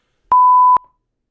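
A single censor beep, set off by a spoken trigger word, sounds as one clean, loud steady tone lasting about half a second with clicks at its start and end, then silence.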